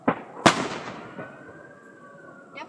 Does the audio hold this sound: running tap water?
no